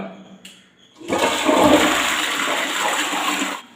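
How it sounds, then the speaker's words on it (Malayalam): A toilet flushes after a bathroom cleaning mix has been poured in, with a loud, close rush of water that starts after a brief click and runs steadily for over two seconds before cutting off. "ഒന്ന് ഫ്രഷ് ചെയ്ത് കൊടുത്തു കഴിഞ്ഞാൽ ഒന്ന് മഞ്ഞ കറകൾ ഈസി ആയിട്ട് മാറുന്നതാണ്"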